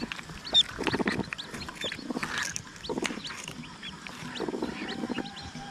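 Newly hatching chicks peep in quick, high bursts, with clucking hen and fowl sounds nearby, several short calls repeating close by over a faint farmyard background.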